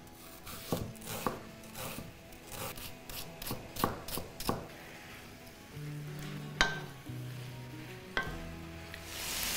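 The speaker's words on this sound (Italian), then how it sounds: "Mentre la carne sta rosolando" Beef browning in a hot pan for a steak and ale pie sizzles steadily throughout, with loud scraping and stirring knocks from a utensil at irregular intervals.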